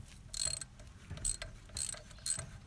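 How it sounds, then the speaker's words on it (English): A ratchet undoes a rusty front bolt on a car in four quick, close bursts of clicking, separated by short pauses. "Undo the front bolt."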